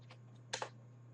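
A few quick keystrokes on a computer keyboard as a chat message is typed, two sharper clicks close together over a low steady hum.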